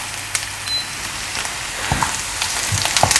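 Garlic and green chillies fry in hot oil in a pan, giving a steady, close sizzle with scattered crackles and small pops, a few louder spatters toward the end.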